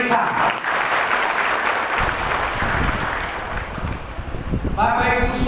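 A church congregation claps for newcomers during a worship service, a dense, continuous patter of applause filling the room, with a voice heard briefly near the end.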